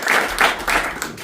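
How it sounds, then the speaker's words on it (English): Audience applause for speakers after a series of speeches, a short, steady burst of clapping throughout. "So give yourself a wonderful applause."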